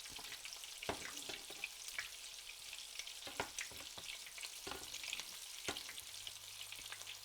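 Coconut-coated shrimp fry in oil over a medium flame, making a soft, continuous crackle with scattered pops and occasional utensil clicks, fairly faint and without talk.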